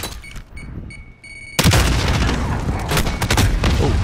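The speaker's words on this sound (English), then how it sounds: "Oh, wow, grenades everywhere." Grenade blasts and gunfire from a Call of Duty: Modern Warfare match: faint beeping tones at first, then from about a second and a half in, loud sustained booming explosions and dense rapid shots fill the rest.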